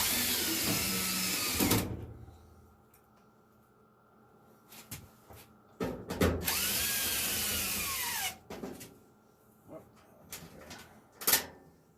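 A cordless power drill whirs in several bursts, two long sustained runs and shorter blips, driving bolts back into a Samsung dryer during a drum roller replacement; close, with clanks and handling noises between runs.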